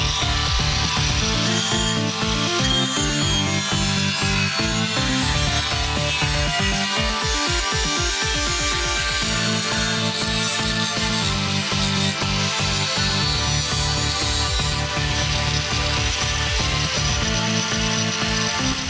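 A power tool steadily cuts through the metal lips of a brake part during a budget big brake kit install on a turbo Miata, a loud, continuous grinding rasp with rhythmic pulses, without speech.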